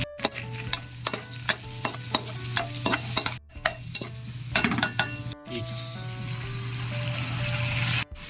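Onion sautéing in a pan for a pork and tofu dish: a sizzle under brisk, rhythmic spatula strokes scraping the pan, broken by a couple of abrupt cuts, with no speech.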